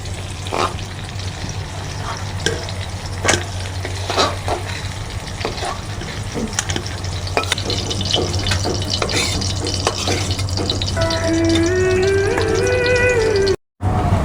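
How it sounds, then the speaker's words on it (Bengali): Steady, close sizzle of green beans frying in a pan, with occasional stirring clinks and a brief whistling tone near the end. "আমার বরবটিটা এখানে হালকা করে লাল লাল করে ভাজা হয়ে গেছে"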